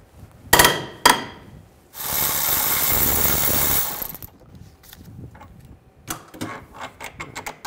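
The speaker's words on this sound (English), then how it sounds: "we're gonna loosen this bolt up, use a 18 millimeter socket" An 18 mm socket loosening a suspension bolt on a 2007–2013 BMW 328i, two sharp impacts, then a loud two-second buzzing power-tool run, followed by scattered clicks and clanks close by.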